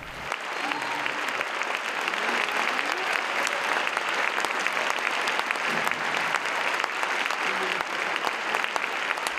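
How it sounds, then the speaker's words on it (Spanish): Concert audience in Mexico City's Sala Nezahualcóyotl applauding a singer as she takes the stage, a sustained wash of many hands clapping steadily throughout, with a voice talking faintly over it. "Abrazada por los aplausos del público"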